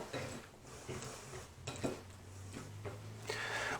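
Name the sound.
mixing roasted-cauliflower florets with oil in a bowl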